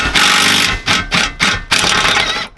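Small impact wrench (rattle gun) driving an 18mm socket on a wobble extension, working on an Audi Q5: four loud, close, buzzing rattling bursts with brief gaps between them.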